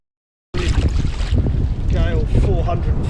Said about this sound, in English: It's getting windy.